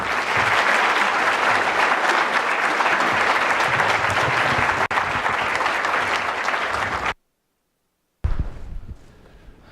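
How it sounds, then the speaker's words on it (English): A large audience gives loud, steady applause to welcome the US Secretary of State at a US–India partnership event. The clapping lasts about seven seconds, cuts off abruptly, and faint room noise follows. "would you, with your applause, please welcome the Secretary of State, Rex Tillerson."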